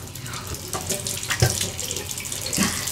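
Tap water running into a washbasin while brushing teeth, a steady splashing stream that carries on throughout with a few louder splashes.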